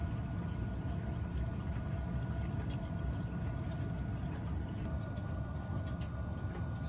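A Miele washing machine drum fills with water during a 60-degree dark wash, giving a faint, steady rushing hiss with no voices.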